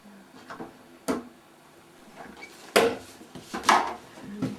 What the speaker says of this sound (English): If you open up the shutters.